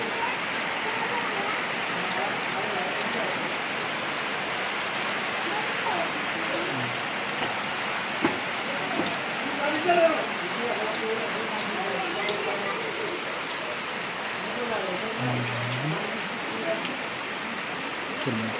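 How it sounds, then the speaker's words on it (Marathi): Steady first monsoon rain patters across the whole stretch in a village, a dense continuous hiss of drops with faint murmuring voices in the background. "पहिल्या सुरुवात झालेली आहे पावसाचं आगमन झालेलं आहे"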